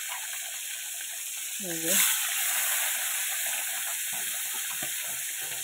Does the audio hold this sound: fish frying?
yes